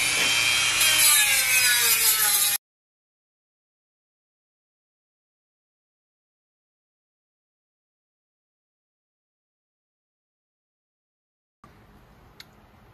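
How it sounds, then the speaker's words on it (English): Small Dremel rotary tool with a flap disc sanding a radiator bracket from a John Deere 6675 skid steer, a close, harsh high whirring grind lasting about two seconds, then silence and faint handling noise. "I'm just using a little Dremel tool with a flapper disc on it"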